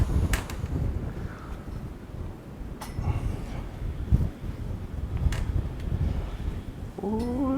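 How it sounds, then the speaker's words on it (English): Outdoors during a dumbbell workout, wind buffets the microphone as a steady low rumble with gusty swells and a few faint clicks, then a short tonal whistle near the end. "Oh, it's a little windy today."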